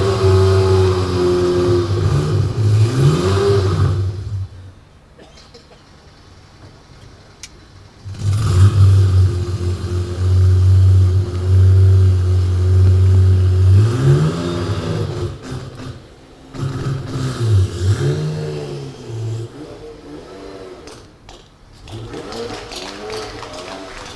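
A car engine revs in several loud, rising bursts with steady idling between them, heard up close with little talk over it.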